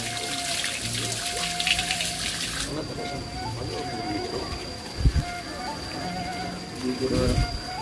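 Clear spring water pours steadily from three public bathing spouts fed by a village mountain spring, a continuous close splashing rush under occasional talk.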